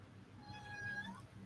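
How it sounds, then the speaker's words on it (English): A cat meows once, a thin drawn-out cry that rises and falls, heard close against a low background hum. "you got a wussy meow"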